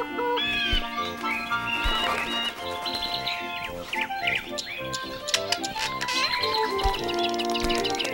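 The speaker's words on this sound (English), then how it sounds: "and more birds" Cartoon birds chirp and tweet continuously over a busy musical score, with bright whistled calls layered through the bed of music for the whole stretch.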